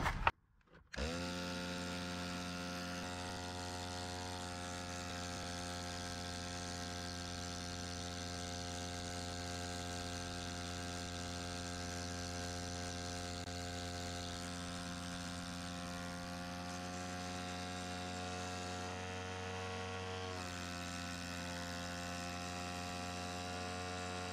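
An air compressor that is failing to build pressure is switched on after a brief click and then runs for the rest of the span. Its motor drones with a steady, even hum at close range, with no talk over it.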